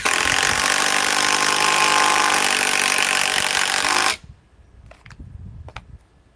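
A compact hammer drill fitted with a 3.5 bit drills loudly and continuously for about four seconds, then stops abruptly and leaves quieter knocks and rustling.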